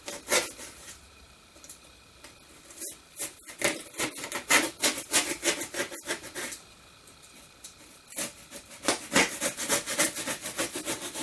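Rough scraping and rasping as cured Great Stuff expanding foam shaped into a pumpkin is trimmed and carved, irregular strokes in bursts with short pauses, close and fairly clear with no talking.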